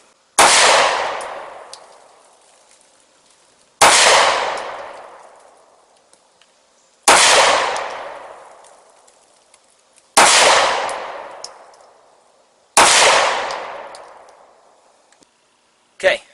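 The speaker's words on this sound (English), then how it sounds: "Shoot the lesser expensive of the two." Five loud, sharp pistol shots from the less expensive of two handguns, fired at even intervals of about three seconds, each with a long decaying echo, close and clear with no talking.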